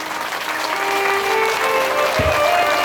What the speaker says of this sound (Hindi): इसलिए आप सबों के लिए जोरदार ताली हो जाए